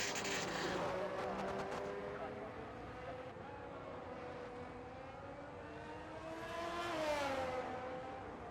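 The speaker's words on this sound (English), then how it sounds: "I hear a car" A video game race car engine whines past on a Miami track, its pitch falling then climbing again as it revs, heard beneath a person talking.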